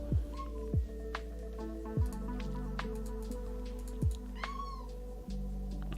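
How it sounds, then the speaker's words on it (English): A chatty house cat meows repeatedly at close range, several short rising calls and chirps scattered over a steady low hum, with no talking. "I'm sorry that the cat is being annoying."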